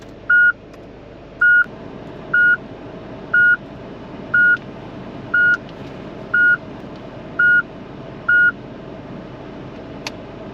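A string of short, evenly spaced electronic beeps from a car head unit, about one per second, sounding nine times over a faint steady hum.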